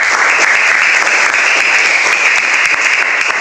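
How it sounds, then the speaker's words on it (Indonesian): Students in a classroom give a round of applause after a group discussion, a dense, even wash of clapping that holds steady at a constant loudness for several seconds. "Tepuk tangan dulu untuk kita semua."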